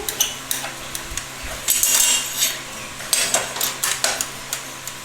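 An iron item is scrubbed with lemon in a series of uneven, close-up scraping and rubbing strokes, with a few sharp metallic clinks among them and no voices.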